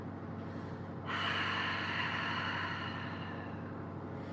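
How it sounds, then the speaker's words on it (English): A slow breathwork exhale pushed through the back of the throat makes a soft, hissing, fog-like rush that starts after a quiet moment and fades gradually over a few seconds. "So through the back of the throat, we're going to explore that valving."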